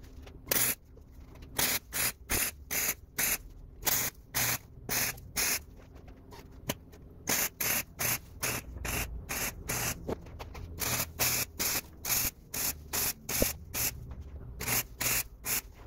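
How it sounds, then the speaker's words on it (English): Stitch welding on a short shifter for a Ford Festiva produces a long run of close, regular crackling bursts, each about half a second with brief gaps between, steady and loud with no talking. "I'm gonna go ahead and weld it up fully."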